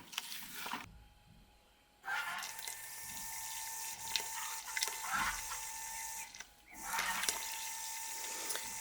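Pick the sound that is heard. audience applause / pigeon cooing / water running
water running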